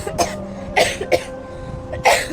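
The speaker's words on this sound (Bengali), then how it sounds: "খুব কাশিও হয়েছে" Several sharp coughs from a person with a bad cold, in short bursts, close by, with brief pauses between them and no talking.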